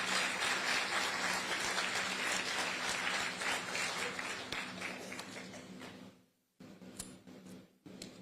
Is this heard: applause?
yes